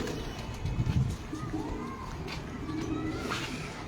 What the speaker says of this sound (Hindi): ये है जी मेरे लाल बन कबूतर